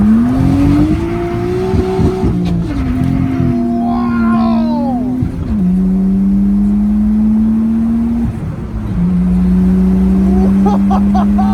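A 1994 Nissan 240SX S14 with an RB engine swap pulls hard and loud, its engine note climbing through the revs, dropping at each gear change and climbing again.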